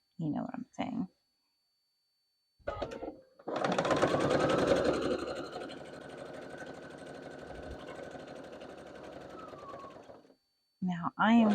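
A sewing machine stitches a seam on a quilted project bag, running steadily for about seven seconds at a close, even hum, with brief talk before and after.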